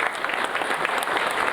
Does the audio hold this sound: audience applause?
yes